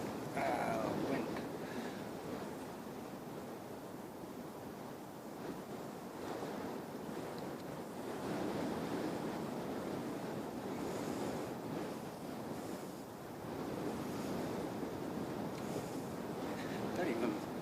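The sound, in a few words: strong wind at an airport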